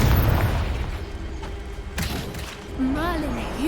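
A Confringo spell bursts with deep booms and thuds in Hogwarts Legacy combat, loud and close, under a voice talking over the blasts.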